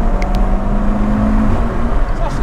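Audi RS3 or BMW M140i, tuned to 460 hp, pulls hard with a steady, loud engine roar and wind rush from inside the cabin.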